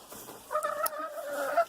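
A Rhode Island Red production hen clucks in a short, sustained run of tonal calls after a brief pause, close by and alone, the last note rising slightly louder.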